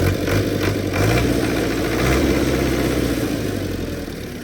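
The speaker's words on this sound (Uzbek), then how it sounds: "Motorlari ham bittadan holatda ishlab turibdi." A Belarus 80X tractor engine runs at a steady idle, a loud, continuous low rumble with a constant vibration that stays close throughout, with no voices.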